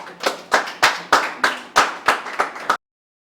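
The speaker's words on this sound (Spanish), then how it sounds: "Solamente un aplauso cabe en ese discurso" A single person clapping after a memorial speech about Henry Molina, about ten sharp, evenly spaced claps, close and loud, ending abruptly into silence.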